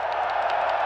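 Live tournament crowd at EVO 2023 cheering and clapping on the main stage, a brief loud blended roar of many voices and hands.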